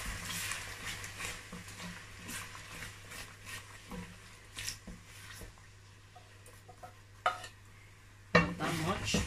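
A blended mix of tomato, long pepper, onions and scotch bonnets is stirred in a pot for jollof rice: soft, intermittent scraping and light clinks at close range, with a louder knock of the utensil near the end.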